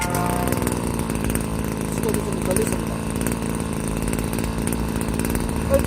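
A small two-stroke brush cutter engine runs steadily with a buzzing, close drone, and a voice speaks briefly over it.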